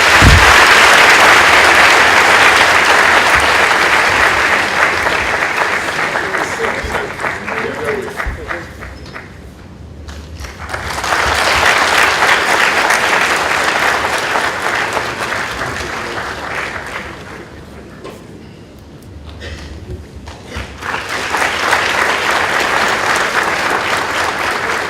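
Audience applause at a University of Health and Allied Sciences honorary Doctor of Science degree conferment, loud sustained clapping in three long waves that dip and swell again, with a voice briefly heard in a lull.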